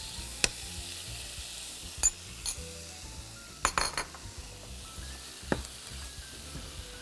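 Chicken pieces sizzle steadily in a hot pan, a continuous frying hiss broken by several sharp clinks and scrapes of a utensil stirring against the metal, close and moderately loud with no talking.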